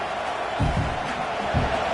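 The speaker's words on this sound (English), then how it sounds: "Listen to the crowd energy here in the early going." A stadium crowd at a Nebraska college football game roars with a steady wash of cheering noise, swelling in a few low surges across two seconds.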